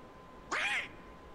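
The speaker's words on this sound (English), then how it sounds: "He's like, oh my god, another bird?" A single short nasal quack from a bird in a video game, loud and close against a quiet background.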